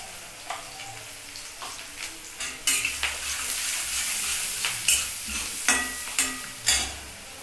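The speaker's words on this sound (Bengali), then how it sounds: "তাহলে পাঁচফোড়ন আর পেঁয়াজটা আমি একটু হালকা হলুদ দিয়ে ভেজে নিচ্ছি।" Onions and panch phoron frying with turmeric in a pan, a steady close sizzle broken by repeated scraping stirs and sharp clinks of a spoon against the pan.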